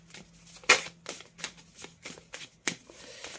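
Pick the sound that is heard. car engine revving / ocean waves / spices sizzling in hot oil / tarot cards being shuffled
tarot cards being shuffled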